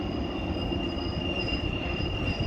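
Train rolling through the Spiral Cut, a continuous steady rumble of wheels on rail with high sustained wheel squeal ringing over it, heard from a moderate distance with no voices.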